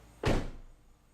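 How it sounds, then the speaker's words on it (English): A Toyota Highlander car door shuts with one solid thunk, followed by a short fading rumble in a quiet setting. "Let's shut the door."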